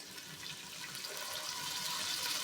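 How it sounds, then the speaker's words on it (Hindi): A little water is poured into a frying onion and tomato masala for kadhi pakora, producing a steady hissing, rushing splash that builds slightly over a couple of seconds, close and fairly quiet. "इसमें हल्का सा हम पानी डालते हैं।"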